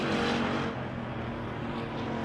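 Pure Stock race cars roar around the track during a heat race at Victory Lane Speedway, a dense, continuous engine drone at moderate distance that swells and eases slightly as the pack runs.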